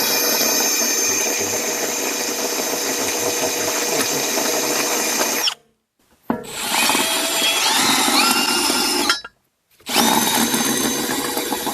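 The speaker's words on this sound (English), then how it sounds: "I'm going to try our hole saw here once" A hole saw grinds loudly against a stuck lug nut in steady, continuous bursts, cutting out twice in brief pauses before resuming at full power.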